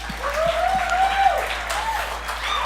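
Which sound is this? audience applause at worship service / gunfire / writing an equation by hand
audience applause at worship service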